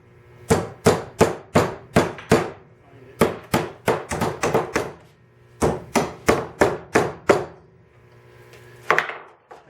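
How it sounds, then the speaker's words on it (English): Sharp tack hammer strikes come in rapid bursts of several blows each, separated by short pauses, close and loud. "Certainly there's a tack hammer around"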